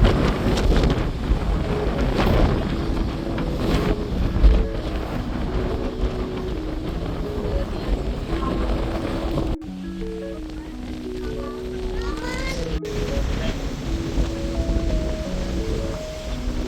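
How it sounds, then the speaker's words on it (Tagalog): Strong wind buffets the microphone at a rocky seaside in Ilocos Norte, Philippines, a steady loud rumble running throughout with a brief shift partway, while faint music plays in the background. "Lakas ng hangin, grabe."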